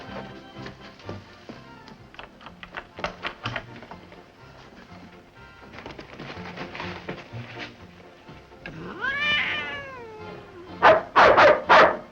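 A dog barks and yips in short bursts amid a cluttered background, with a whining, wavering cry building near the end before a cluster of loud, sharp barks.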